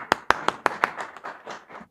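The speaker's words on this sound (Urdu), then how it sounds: "تالیاں" An audience at a poetry recital claps, starting with several crisp, distinct claps and then thinning into a softer, scattered patter of applause that fades out quickly.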